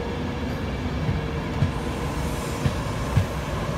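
A Class 322 electric train departs Wakefield Westgate, rolling steadily past with a low rumble, wheels knocking over rail joints in a loose rhythm, moderately close.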